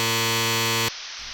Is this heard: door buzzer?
yes